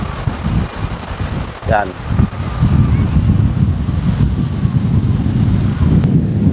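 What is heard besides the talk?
strong amihan wind at Bulabog beach, Boracay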